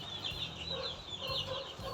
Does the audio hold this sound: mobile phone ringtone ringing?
no